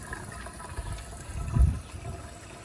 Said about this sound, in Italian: in questo caso vi faccio vedere che la fontana è qua